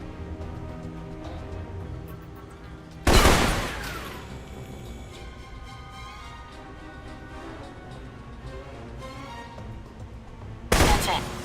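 Two loud, sharp gunshots with ringing tails, several seconds apart, from the video game Alpha Protocol, set against a quieter background with faint musical hum.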